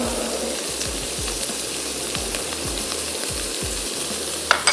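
Ginger and garlic sizzling and frying in a pan for a sweet and spicy Korean noodle sauce, a steady crackling hiss with repeated soft stirring scrapes throughout and one sharper clatter near the end, no talking.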